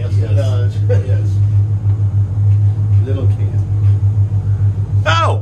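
A supercharged Chevrolet LSX376 crate engine with a Whipple supercharger and 4-inch pulley idles on a dyno, a steady deep rumble that holds low throughout while people talk over it.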